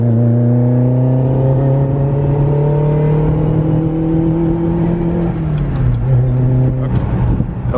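A barn-find Ferrari 308 GTB revs up through a gear, its engine note climbing steadily, then drops on the shift and begins rising again, loud and close, with no talking.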